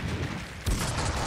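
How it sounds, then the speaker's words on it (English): A grenade explosion in the game Max Payne 2 bursts out as one sudden, heavy, booming blast midway through, rising out of a dense, noisy game backdrop and trailing off in rumble. "Grenade."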